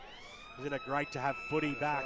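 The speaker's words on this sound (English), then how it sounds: "And that's the siren sounding to announce quarter time out here at Ted Ajani Reserve." A quarter-time siren at a local football ground, Ted Ajani Reserve in the eastern suburbs, holds a steady high tone in the background while a commentator talks over it.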